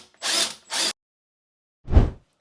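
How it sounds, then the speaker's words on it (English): A power drill bores through a wooden door to fit a brass handle, two short close whirring bursts followed by a pause and a third lower-pitched grinding burst. "hold it and drill through so you don't chip the face of the door"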